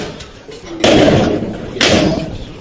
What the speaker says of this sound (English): And that door is being broken into.